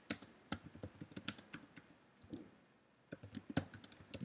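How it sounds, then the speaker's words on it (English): Keys clatter on a computer keyboard as a git config command is typed in a Linux terminal, irregular bursts of close clicks with a short pause midway. "I'll just type it."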